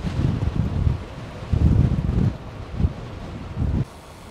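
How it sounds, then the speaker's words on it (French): Strong coastal wind buffets the microphone while cycling on a bikepacking ride, loud irregular low gusts roaring in bursts and dropping away abruptly near the end. "Il y a beaucoup de vent."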